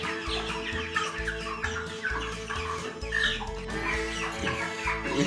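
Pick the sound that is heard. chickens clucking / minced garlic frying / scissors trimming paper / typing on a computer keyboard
chickens clucking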